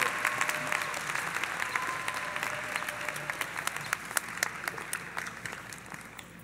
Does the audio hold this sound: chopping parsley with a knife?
no